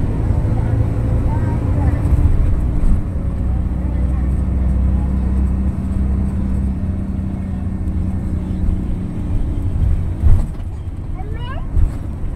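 A vehicle engine idles quietly with a steady low rumble, close by, on a road trip through the Philippines, while faint voices murmur in the background.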